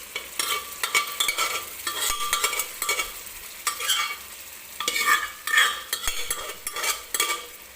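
Cooked vegetables are stirred into pav bhaji masala frying in oil, giving a continuous sizzle broken by repeated scraping, clacking strokes of a spatula against the pan, close and loud with no talking.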